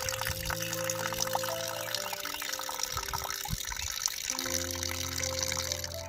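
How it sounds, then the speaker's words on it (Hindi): Water from a mountain spring flowing out among tree roots beside a wooded gully, a steady close trickle and splash running continuously, with faint tonal hums underneath. "और ये रहा है पानी का स्रोत, और किसी ने यहाँ पे बोतल लगा रखा है, और ये पानी यहीं से निकलता है"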